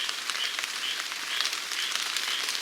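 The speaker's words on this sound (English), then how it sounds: "I wish that rain would knock off some" Steady rain falls in a jungle near a primitive trail, a dense even hiss of drops hitting leaves and ground, with scattered sharper taps throughout and no voices.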